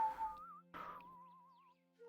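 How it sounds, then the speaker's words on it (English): A person whistles in a virtual-reality roleplay session, with short wavering tones, separated by breathy noise and a pause, faint and thin, with no talk. "I know how to whistle."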